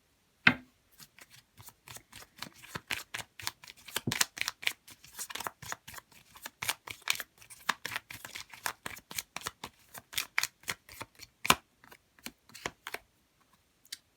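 A deck of tarot cards is shuffled by hand, a long run of quick crisp riffling flicks and taps, close and fairly quiet, with no talking.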